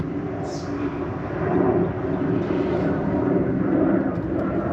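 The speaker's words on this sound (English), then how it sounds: "We got another plane because it's that time with Nashville." An airplane passing overhead near Nashville, a broad steady roar that swells slightly midway, heard outdoors with faint background noise.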